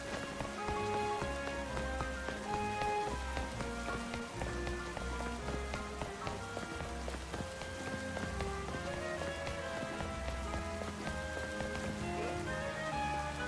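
Steady rain in Pokémon Legends Z-A, a dense continuous patter of drops on surfaces, soft and even throughout with a light rhythmic game music layer beneath.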